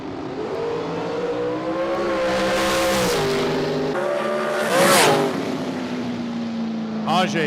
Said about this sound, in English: When you hear that womp, that's them putting their foot on and off the gas pedal.